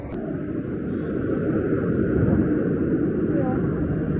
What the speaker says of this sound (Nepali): यहाँनिर ठुलो प्लेन उड्दैछ